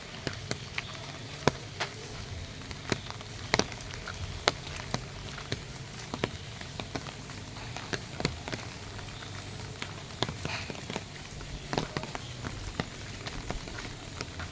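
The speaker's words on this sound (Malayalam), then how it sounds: "നല്ല മഴയാണ്." Steady rain patters on a surface, with scattered louder drips and taps over a constant background wash.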